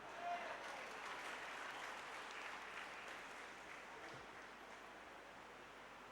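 Sustained applause from a seated audience at a political party's state convention in Maharashtra, a steady dense clatter of hands that fades only slightly over six seconds, fairly distant and even.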